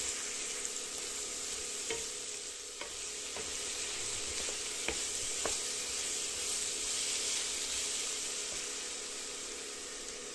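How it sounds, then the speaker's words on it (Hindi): Garlic-ginger paste with red chilli powder and spices stirred and sizzling in a pan, a steady close frying hiss with occasional spoon scrapes, no talking. "दो चम्मच के करीब लहसुन अदरक का पेस्ट और सारे मसालों को हम अच्छी तरह"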